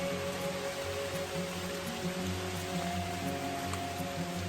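Steady rain falls on a forest hiking trail in summer, a continuous close patter with no voices, holding an even level throughout.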